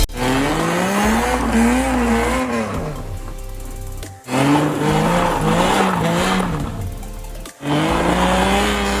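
A custom car modified for a wheelchair-bound driver rolls along a street, its engine droning and rising in pitch through repeated gear runs with short breaks between pulls, loud and close from inside the vehicle.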